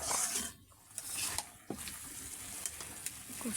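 Curry is sautéed in a covered pan, a soft sizzle with scraping spoon strokes and light clinks of metal against the pan, close and steady.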